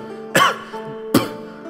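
Two sharp coughs after eating pie in an audio drama, spaced about a second apart, close and fairly loud over a faint sustained background tone.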